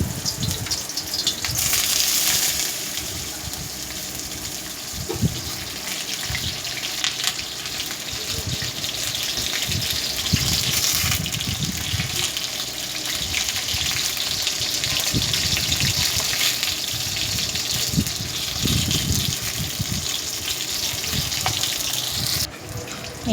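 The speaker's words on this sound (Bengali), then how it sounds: "এই যে পটল ভাজাগুলো মুচমুচে করে ভাজা হয়ে যাচ্ছে।" Pointed gourd slices fry crisp in hot oil, giving a steady, continuous sizzle that runs unbroken for over twenty seconds, with occasional soft clinks and scrapes of a utensil in the pan.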